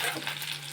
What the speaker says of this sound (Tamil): பச்சை மிளகாய், வெங்காயம், கருவேப்பிலை போட்டாச்சு.